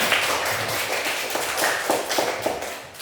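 Students in a classroom clap together, a short burst of scattered, uneven hand claps that thins out toward the end.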